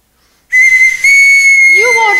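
A loud, sustained whistle blast from a stage musical after a moment of silence, holding one steady high note before breaking into a falling, warbling trill at the end.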